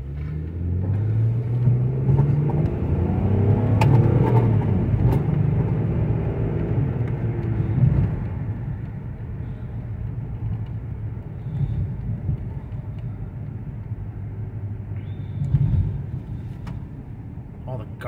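Interior road noise inside a moving 2003 Hyundai Santa Fe, a steady low rumble and drone with loose items rattling faintly in the cabin, continuous and fairly loud throughout.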